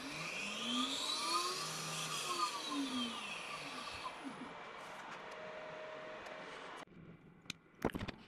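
An Onefinity 65mm CNC spindle runs during a test, a steady quiet whir with sweeping tones as the speed shifts, falling away near the end with a few sharp knocks.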